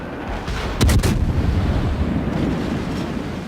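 Secondary guns on the Mikhail Kutuzov, a tier 8 premium cruiser in World of Warships, fire a quick pair of sharp booming shots over a steady rumbling wind-like background.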